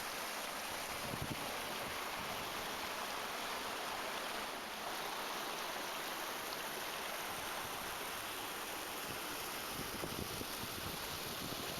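Waterfall along the Bright Angel Trail in the Grand Canyon, a continuous broadband rush of falling water, steady and unbroken for the whole stretch, with no voices.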